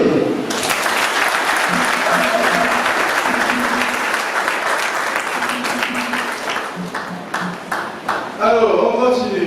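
Wedding guests at a church nuptial blessing break into sustained, loud applause right after the couple's vows, with steady clapping throughout and a brief voice near the end.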